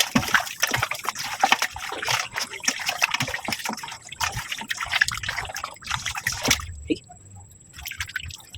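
Raw chicken pieces for adobo are rinsed and rubbed by hand under water, giving uneven splashing, dripping and sloshing nearby, with brief murmurs of talk in the background.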